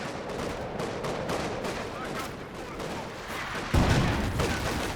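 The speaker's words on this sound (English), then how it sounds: "I don't think 2 Vickers is what you want to be doing then. It's just such a bad machine gun." Vickers machine gun fire in Company of Heroes 2 comes as a dense rattle of rapid bursts mixed with other battlefield gunfire, continuous and fairly loud, with a sharper impact near the end.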